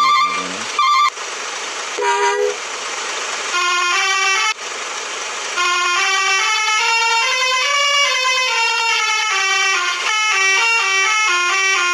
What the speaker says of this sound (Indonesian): Coba langsung kita tes di Klakson ya, teman-teman.